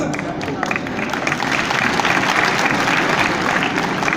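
Audience at a Hindi speech breaks into sustained applause, dense loud clapping from a crowd that continues evenly throughout without pause.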